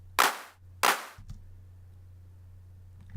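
Two sharp, bright clap hits from a music production sample ring out about half a second apart, each with a short decaying tail, followed by a low sustained bass tone.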